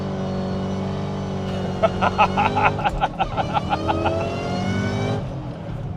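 Car with a Tremec T56 manual transmission revving hard through high-RPM gear shifts, a loud rising engine note broken by rapid pulsing bursts, with a brief spoken word over it.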